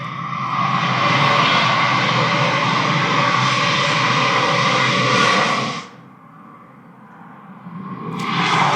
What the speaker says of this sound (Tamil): அமெரிக்காவினுடைய விமானம் சிரியாவை நோக்கி போயிட்டு இருக்கு.